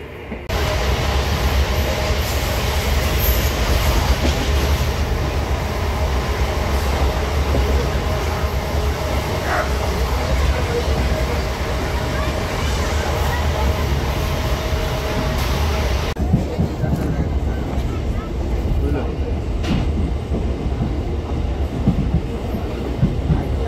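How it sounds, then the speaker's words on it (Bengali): A passenger train crosses the bridge over the Mayurakshi river, its riverbed dried out, with a steady, loud rumble and rhythmic wheel clatter running throughout and no let-up across the whole span. "আর ট্রেনটা এখন ওই ময়ূরাক্ষী নদী পেরিয়ে যাচ্ছে"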